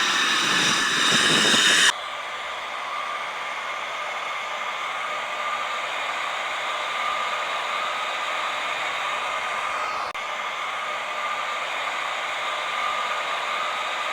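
An IndiGo airliner taxis onto an airport runway, giving a steady, distant jet-engine whine and broad rumbling roar that holds evenly throughout after a louder burst of noise at the start.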